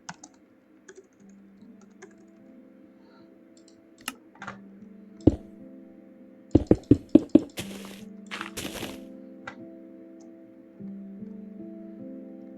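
Computer keyboard typing in sparse scattered taps, then a brief quick burst of sharp key clacks midway, close and clear over a low steady hum, with no voices.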